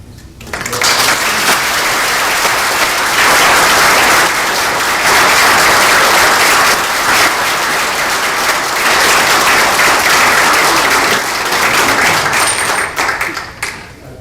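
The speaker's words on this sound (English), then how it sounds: "That's more applause than Bobby Bonds gets when he gets the whole run." A loud, sustained burst of audience applause after a televised political discussion, many hands clapping densely and evenly close up for about fourteen seconds before tapering off.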